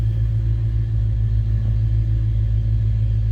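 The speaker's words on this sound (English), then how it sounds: "Nice sounding 5-liter." A 1990 Ford Mustang LX convertible's 5.0-liter V8 idling steadily, a close, deep, even rumble with no revving and no voices.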